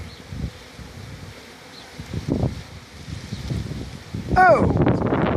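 Bees buzz close by while a hive is removed from the outside wall of a house, with rustling and wind noise on the microphone and a louder burst of activity near the end.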